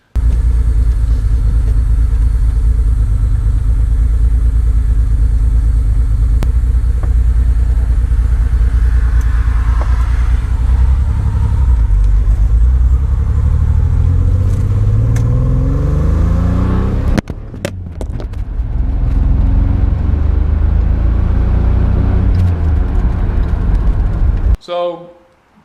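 A Pontiac Fiero engine rumbles steadily with rising and falling revs as it drives, loud and close, with a brief dip partway through before a sudden cutoff.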